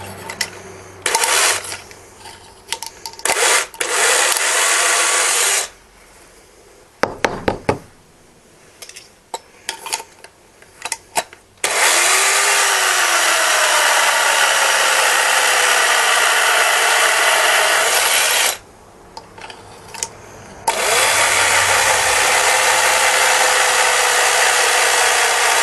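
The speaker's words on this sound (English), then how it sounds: "You'll just put it right down the barrel, set it in the inside, and start drilling." Power drill boring inside the barrel of a Nerf Nitefinder blaster, loud whirring bursts broken by short stops, with rattling and clattering of the plastic between runs and two long continuous spells of drilling.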